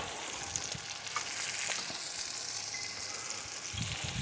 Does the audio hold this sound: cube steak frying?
yes